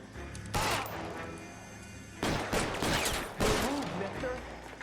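Pistol gunfire, a Colt .45, in the game L.A. Noire, with several loud close shots spaced apart over a steady background rumble, mixed with other impact noises.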